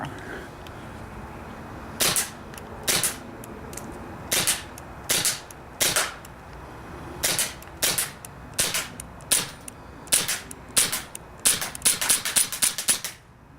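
A KWC Tanfoglio Limited Custom airsoft pistol fires semi-automatically, sending about twenty sharp, close, loud cracks one at a time, spaced unevenly and then quickening near the end.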